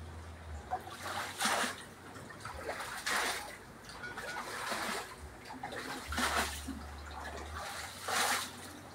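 Flood water being bailed out by hand during heavy flooding in the Philippines, with a scoop splashing and water trickling and pouring in repeated bursts about every two to three seconds, close by, no talk.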